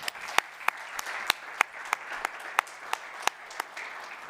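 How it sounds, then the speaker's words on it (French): A handful of people at a climate sustainability talk clap sparsely, distinct separate claps in a slow irregular rhythm over quiet room tone, fairly faint. "Un tonnerre d'applaudissements pour Alexandros Papagiannis."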